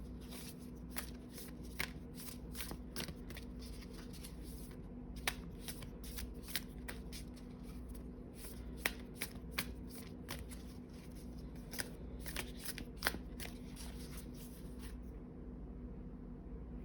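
Oracle cards being shuffled by hand in a quiet room, with soft repeated riffling and tapping clicks scattered at an irregular pace over a low steady hum.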